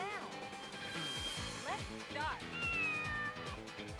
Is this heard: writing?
no